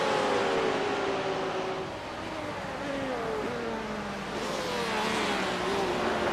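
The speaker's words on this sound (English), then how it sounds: "Porsche is on the stretch to the start-finish line." A Porsche race car engine in a racing video game, a sustained engine drone with the pitch rising and dipping through gear changes down the straight, loud and steady throughout.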